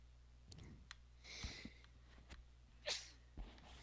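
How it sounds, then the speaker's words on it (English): A single sharp sneeze bursts out once near the end of a quiet stretch, recorded close to the microphone while a Minecraft cave is being explored, with faint clicks scattered around it. "Sorry, I sneezed."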